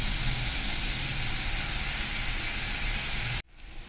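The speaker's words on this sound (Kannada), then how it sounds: "ಇವಾಗ ನೋಡಿ ಈರುಳ್ಳಿ ಫ್ರೈ ಆಗ್ತಾಯಿದೆ." Onions frying in a pan for egg curry, a loud continuous sizzling hiss held steady close up before cutting off suddenly near the end.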